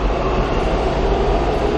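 Taipei metro train pulling out of a station, a steady loud rumble of the cars rolling away close by, with no talk over it.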